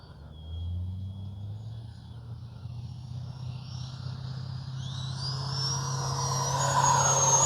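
A Freewing 80mm F-22 Raptor RC jet flies with its landing gear lowered, a low steady rumble with a thin whine that rises and grows louder as the model approaches, heard outdoors without speech.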